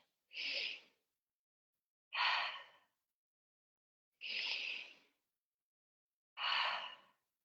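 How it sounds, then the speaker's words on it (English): Four slow, evenly spaced breaths exhaled out of the mouth during a breathwork exercise, each a soft, breathy rush about two seconds apart, with silence between them and no talking. "then just passively exhaling out of the mouth"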